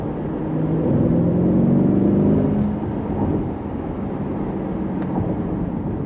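Engine of a 2022 Chevrolet C8 Corvette dropping a gear and pulling harder, a rising low drone that swells over the first couple of seconds and then settles into steady cabin-heard road and engine noise.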